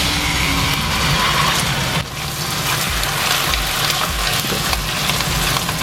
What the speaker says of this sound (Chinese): 肉丝下锅